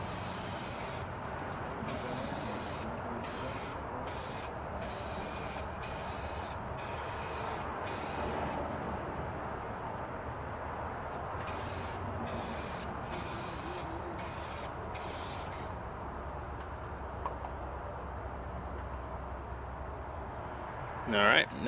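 Spray gun laying clear coat onto a Seibon carbon fiber GTR hood in repeated short bursts of hiss, over a continuous background rush, with a faint voice in places.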